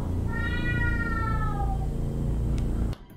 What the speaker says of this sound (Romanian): Se aude sunetul de miau.